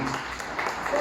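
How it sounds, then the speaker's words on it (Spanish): Church congregation clapping in praise during a Spanish-language sermon, a brief burst of hand claps at moderate level mixed with voices. "Denle un aplauso al Señor"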